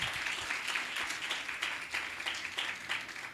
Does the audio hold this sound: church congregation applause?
yes